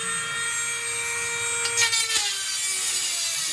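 A bolt is sawn through during rewiring work on a 1952 GMC PD4103 Greyhound bus, giving a loud, steady grinding rasp with a sharp shift near the end as the cut finishes.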